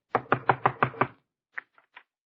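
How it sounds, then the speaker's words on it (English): Knocking on a door, six quick, evenly spaced raps close up, then a pause and three lighter, softer taps trailing off. "Come on, I'll knock on the door."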